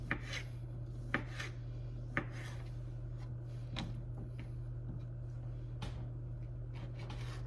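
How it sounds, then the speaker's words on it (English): A knife cuts through bacon on a board, making a series of sharp, irregular taps and chops over a steady low background hum. "You're going to cut the bacon up."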